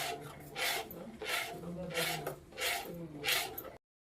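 Soaked mixed lentil and rice batter with salt added is stirred by hand in a bowl for appe, a soft rhythmic wet scraping that repeats about every half second, close and fairly quiet, with no talk.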